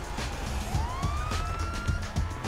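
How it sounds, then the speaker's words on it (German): A police car siren in GTA 5 Online wails upward in a rising sweep, loud and close over a low thumping engine and road rumble. "Sirene an."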